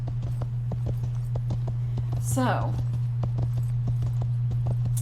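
Hooves of a loping horse in a video game, a steady run of clip-clop beats over a low hum. A person speaks briefly and a short rising sweep passes in the middle.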